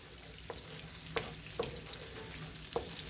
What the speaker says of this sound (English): I've melted the butter and the oil together. I'm going to add in the onions and the garlic. I'm going to give that a good mix.